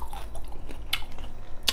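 Braised pork ribs bitten and chewed close up, a quick series of soft wet crunches and squishes with a couple of sharper bites, quiet and with no talk.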